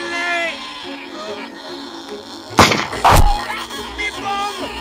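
Gunshots fired at a giant creature in a King Kong film scene, two loud sharp blasts in quick succession amid tense background music, with voices speaking before and after.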